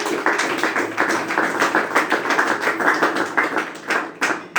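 Congregation clapping during a Sunday church service, a dense, close, rhythmic round of applause with steady repeated beats throughout and no talk over it.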